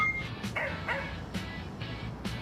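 A dog gives a few short, yipping barks over a constant background hum, spaced irregularly and heard at moderate distance.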